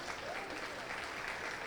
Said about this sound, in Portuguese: Pode aplaudir o Senhor, que Ele é digno.